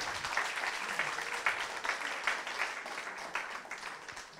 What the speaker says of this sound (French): Vous pouvez applaudir Monsieur Amiot, bien sûr.